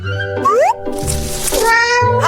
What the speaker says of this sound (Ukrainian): дитина та нявкає